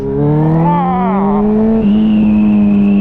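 A Suzuki B-King 1340 motorcycle engine revs hard under full throttle in second gear, its steady rising whine loud and close, pitch climbing smoothly before a brief dip and continuing strong.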